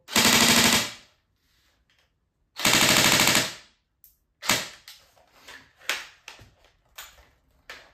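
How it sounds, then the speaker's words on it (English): Two fast bursts of full-auto fire from a Tokyo Marui Colt M4A1 Carbine airsoft rifle, then a string of separate semi-auto shots with sharp clicks and snaps, fairly close. "some fully automatic demonstration as well. So first semi, fully auto,"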